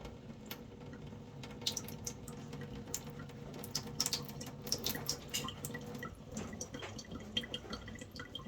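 Water drips and trickles from a small tap during a leak test on a Yamaha XJ650 motorcycle, giving quiet, irregular close ticks and splashes over a low background hum.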